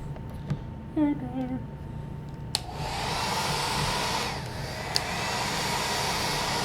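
After a short spoken remark, a hair dryer switches on and blows a steady, loud, close-up rushing hiss over a craft piece for several seconds.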